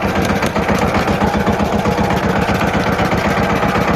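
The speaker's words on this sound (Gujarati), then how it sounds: "ટ્રેક્ટર કેપ્ટન બ્લેક કરી લઈને આપણે જઈ રહ્યા છીએ એના ખેતરે" A Captain tractor engine chugs along on the way to a farm field, a close, loud, steady pulsing rumble with no talking.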